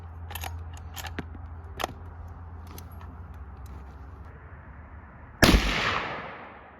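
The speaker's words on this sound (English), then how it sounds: "That was the last shot and I keep missing." Target shooting outdoors: a few light clicks and taps lead up to one loud, sharp gunshot near the end, whose ringing decay trails off.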